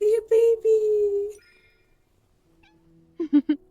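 A kitten in a video game gives three drawn-out meows, then goes quiet before a cluster of short, sharper mews near the end.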